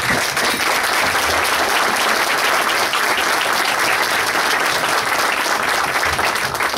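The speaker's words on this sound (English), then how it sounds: "We applaud you." A crowd claps loudly and steadily throughout, a dense, sustained round of applause with no pauses.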